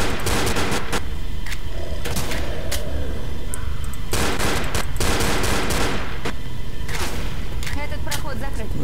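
Pistol gunfire in the video game Left 4 Dead, with repeated sharp shots cracking through a dense, busy game soundscape alongside other loud in-game noise.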